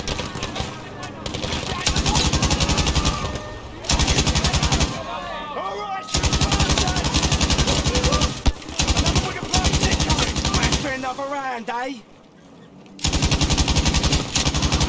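Machine gun fire in the World War II video game Battlefield V during a raid on a German airfield, loud rapid bursts repeating with short gaps, under excited talk from players.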